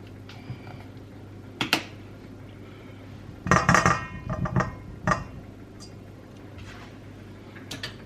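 A utensil scrapes and clinks against a bowl as ingredients are mixed for light batch cooking, a few scattered taps and then a short burst of close clattering strokes, with quiet gaps between.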